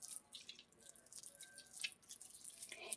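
Ripe mango pulp being squeezed by hand in water for a raw mango gojju, giving soft wet squishes and small drips that come and go quietly.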